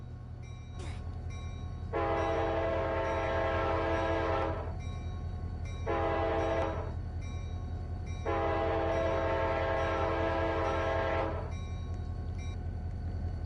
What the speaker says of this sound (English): So this one's the Amtrak K5LA, like you would see off of the P42s.